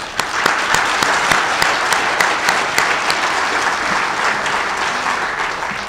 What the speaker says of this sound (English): So a round of applause for Rick Cruse.